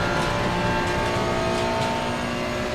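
A Ferrari 296 race car engine in the Assetto Corsa Competizione racing game at Watkins Glen drones loudly and steadily at high revs, a dense continuous roar with no break and no talk.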